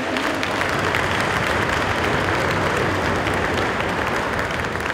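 Warm, sustained audience applause at a Christmas carol concert in an old mine hall, greeting a clarinettist; dense, even clapping from a sizable crowd lasting several seconds with no break.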